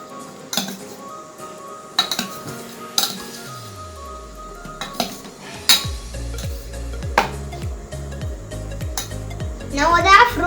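Utensils clink and scrape against a bowl while fruit salad is mixed, with sharp, irregular metallic taps close by over several seconds and a soft voice in the background.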